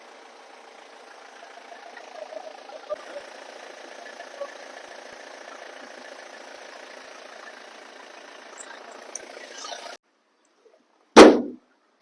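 A used vehicle's engine idling steadily for about ten seconds with a low, even rumble, then cutting off, followed by a single loud clang after a brief silence.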